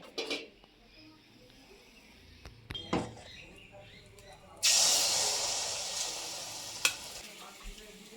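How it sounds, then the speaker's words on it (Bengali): Malpua fries in hot oil, a quiet spell of faint clatter giving way to a loud, rushing hiss of sizzling batter that holds steady while a voice speaks softly nearby. "এটা হচ্ছে এখনো ডুবানো হয়নি এই একদম ভাজা হচ্ছে"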